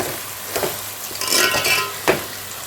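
A spatula stirring golden brown fried onions in a hot pan, a few scraping strokes and a light clink over a soft sizzle, close and clear.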